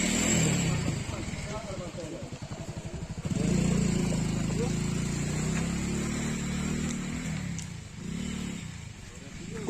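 A motorbike labours over a rough, stony path at Deojhar in Odisha, its engine droning and revving unevenly at close range, with people talking over it throughout.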